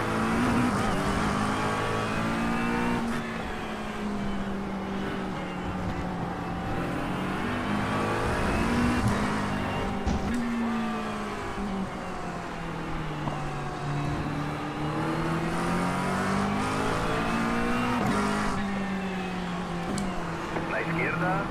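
Race cars drive and pass one another, their engines a continuous droning roar that swells and falls in pitch over about twenty seconds, with a voice talking over the engine noise.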